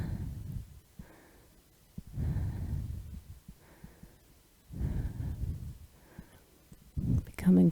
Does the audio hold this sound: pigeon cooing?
no